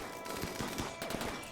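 Rapid gunfire crackles in a dense burst in the colony-building video game Rimworld, a continuous rattle of shots at a moderate level.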